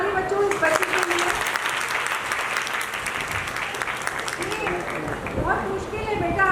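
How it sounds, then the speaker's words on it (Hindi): Children in a school Independence Day celebration applaud a child with loud, sustained clapping from a large group, spread evenly through the span and fading slightly toward the end, while a voice talks over it. "और एक बार जोरदार ताली बच्चों इस बच्चे के लिए"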